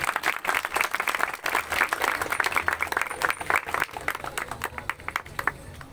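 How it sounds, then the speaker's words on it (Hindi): Applause at the blessing of a new church, a moderate crowd clapping in sharp, uneven bursts that continue steadily before thinning toward the end. "तो तालियां"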